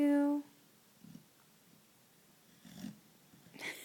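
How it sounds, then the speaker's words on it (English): A sleeping dog snores quietly, with a few soft, rough snorts spaced a second or more apart in a still room after a short tone at the start. "won't we try to put your head up a little bit so you don't snore so loud?"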